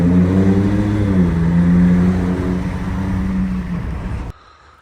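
Ford Ranger Raptor engine revving loud and close, a steady deep mid-range drone with rising harmonics that holds for about four seconds before cutting off abruptly.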